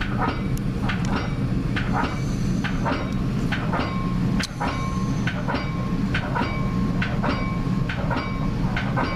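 Metra BNSF weekend local commuter train heard from the cab car, with a steady low rumble and repeated rhythmic clickety-clack of wheels over rail joints throughout, loud and close.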